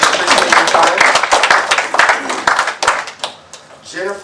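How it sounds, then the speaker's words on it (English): A conference audience claps for a healthcare panel, close and loud at first, then thinning into scattered individual claps before fading out near the end. "I think we're going to give a round of applause for everyone"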